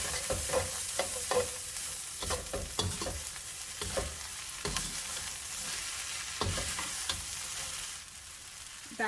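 Bean sprouts sizzle and are stirred in a hot pan while house special fried rice is cooked, with steady close frying hiss and repeated clacks and scrapes of a utensil, no talking.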